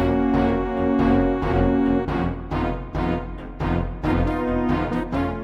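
Calm idle-state soundtrack from the Star Wars: X-Wing video game's iMuse music system, a steady orchestral-style synthesized phrase with rhythmic chords playing alone.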